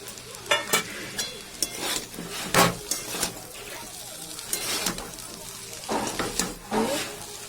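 An egg fries in a pan for chow mein, a steady sizzle broken by repeated scraping stirs at an irregular pace, close and fairly loud.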